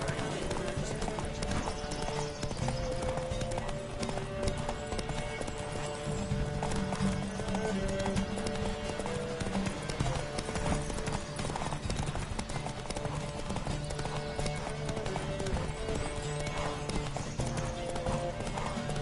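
Horses gallop flat out in a race in The Witcher 3, a rapid continuous clatter of hooves with neighs, set against game music, with a voice calling out now and then.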